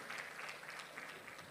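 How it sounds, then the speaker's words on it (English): Audience applause for a moderator at a health research and policy symposium, a steady patter of many hands clapping at moderate level, fairly faint and distant throughout. "Another big hand of applause for the"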